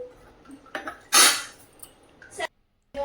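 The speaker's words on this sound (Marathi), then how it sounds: "तर आता मी हिला झाकण ठेवते।" A lid is set on a metal cooking pot in a home kitchen, with clattering metal and a bright clang midway, then a brief pause before more handling noise.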